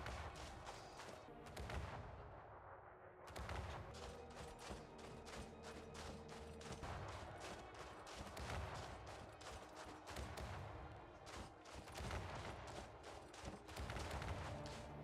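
Rapid, continuous gunfire and turret fire in the video game Elite Dangerous: Odyssey fill a raging battle, dense bursts overlapping with heavy thumps and only a brief lull near the start.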